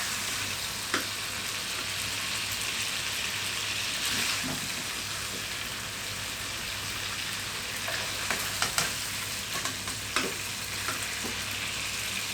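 Chicken curry sautéing in a pan, a steady broadband sizzle throughout with occasional soft clinks of a utensil against the metal.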